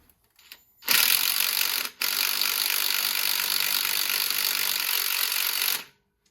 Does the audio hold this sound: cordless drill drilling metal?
yes